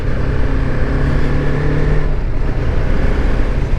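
Motorbike engine droning loud and close as it runs and shifts through gears, a continuous rough mechanical hum with no speech.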